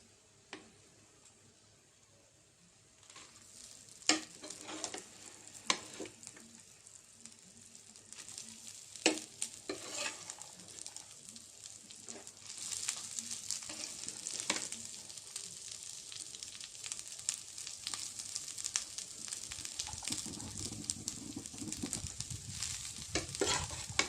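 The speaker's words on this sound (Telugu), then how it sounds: "ఇప్పుడు రైస్ వేసుకుందామండి" Rice is tipped into a hot pan of tempered jeera rice and stirred with a spatula, giving soft crackling sizzle and irregular scraping clinks close by, the frying growing louder and denser toward the end.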